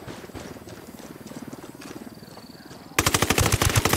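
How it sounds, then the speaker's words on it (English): Gunfire in Ghost Recon Wildlands: after a stretch of low rumbling ambience, a loud rapid automatic burst breaks in close and keeps hammering steadily to the end. "I'm opening fire."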